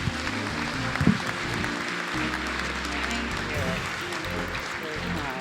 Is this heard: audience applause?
yes